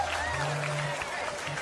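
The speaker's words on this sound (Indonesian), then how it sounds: "Tepuk tangan buat Iis Dahlia." A studio audience applauds, a brief, steady wash of many hands clapping, moderately loud, with a faint tone humming underneath.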